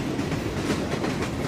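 A train running on rails, played as a stage sound effect in a school theatre production, gives a continuous, moderately loud rumble with rhythmic clickety-clack.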